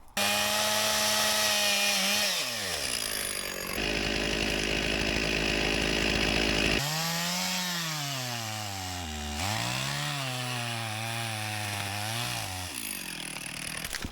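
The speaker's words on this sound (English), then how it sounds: "And when you're using a chainsaw" A chainsaw cutting through willow wood runs loud and close, its engine pitch dropping as it bogs into the cut, then revving back up between cuts in repeated surges.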